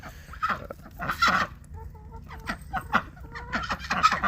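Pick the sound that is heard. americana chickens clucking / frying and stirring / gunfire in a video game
americana chickens clucking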